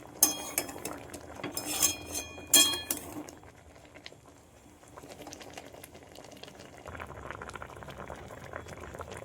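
A pot of boiling water holding leaf-wrapped prawn parcels, rapid bubbling under a few sharp metallic clinks of utensils, with faint bird calls in the background.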